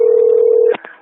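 A telephone dial tone hums steadily at close range as an emergency 911 call is placed, then cuts off abruptly into two short clicks or tones before fading to quiet.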